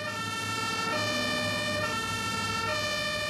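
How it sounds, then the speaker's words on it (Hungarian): A fire engine siren wails continuously, a loud steady tonal blare with layered harmonics close by, no voices over it. "A tűzoltóautónak elsőbbsége van, mert sietnie kell."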